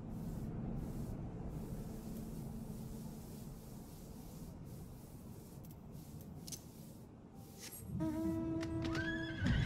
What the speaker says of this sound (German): Hallo, mein Pferdchen.